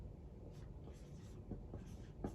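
A marker or chalk scratches across a classroom board as a number is written during a math lesson, a soft, brief rubbing that sits under a low background hum.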